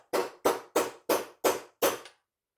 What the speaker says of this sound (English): Take your socket, your hammer, give it a couple taps.